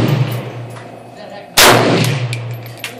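A single loud, sharp AK-47 rifle shot cracks out midway, preceded by low background rumble and followed by a decaying echo outdoors.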